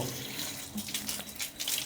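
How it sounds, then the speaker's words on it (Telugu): Water runs steadily from a tap in a renovated flat while someone washes their face, a soft continuous splash close by with faint shifts as hands cup the stream; no one speaks. "ముఖం కడుక్కుంటుంది సో ఈ వాటర్ కూడా వచ్చేస్తున్నాయి అనమాట"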